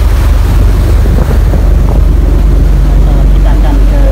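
A cruise ship under way on the Red Sea off Jeddah, with a loud, constant roar of wind and rushing water buffeting the microphone throughout.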